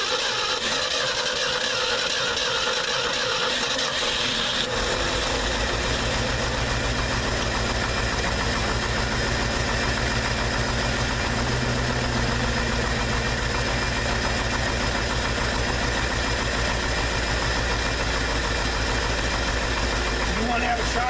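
A carbureted truck engine catches and settles into a loud, steady rumbling idle close by after a few seconds of lower noise, with people talking over the running engine.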